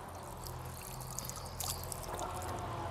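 Water runs from the bronze tap of a drinking fountain, opened with a hand wheel: a steady splashing pour that carries on unbroken and grows a little brighter and louder partway through, heard close with no talk.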